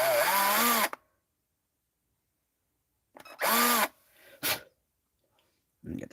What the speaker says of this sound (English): I got the plug holes drilled.